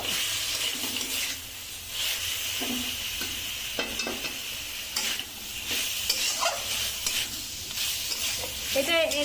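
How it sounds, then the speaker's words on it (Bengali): Potatoes frying in hot oil for a home-style fish curry, loud continuous sizzling with repeated scraping stirs in the pan, close up and without speech. "আলুটা দিয়ে দিলাম আলুটা দিয়ে আর একটু নেড়ে নেব"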